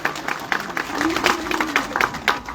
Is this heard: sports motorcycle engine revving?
no